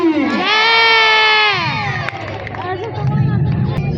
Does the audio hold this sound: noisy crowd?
yes